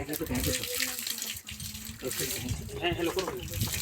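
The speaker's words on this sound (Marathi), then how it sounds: "ते मारा ना मारा पाणी मारा त्याच्यावर" Water gushes and splashes onto cow dung in a tub, an uneven close pouring and sloshing with voices talking over it.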